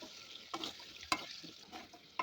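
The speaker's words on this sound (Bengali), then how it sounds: "তেলের মধ্যে এখন আলুটা দিয়ে দিলাম, দিয়ে ভালোভাবে লাল লাল করে ভেজে নেব।" Potatoes frying in hot oil in a wok with a little turmeric and salt, a faint, steady sizzle broken by a few soft stirring scrapes, no voices.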